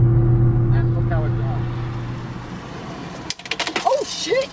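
A 5-cent coin drops and clatters with a few quick metallic pings and bounces, after the steady engine hum of a 2018 turbocharged Mustang cuts out.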